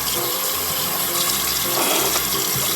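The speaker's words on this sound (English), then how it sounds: "Let the water run and use your hands to scoop up the water." Tap water running steadily into a sink while rinsing the mouth after brushing teeth, a continuous close, loud splashing hiss with no pauses.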